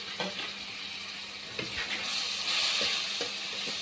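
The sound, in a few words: spice paste with tomato sizzling as it is sautéed in a pan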